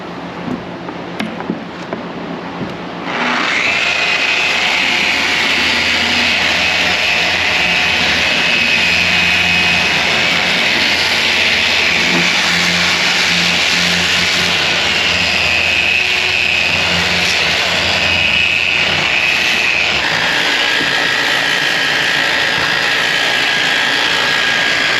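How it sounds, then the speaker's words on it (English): A power sander works the edges of a fiberglass boat transom, giving a loud, steady high whine that starts a few seconds in and runs almost unbroken, its pitch dropping slightly near the end. "we're going to start doing some sanding and contouring"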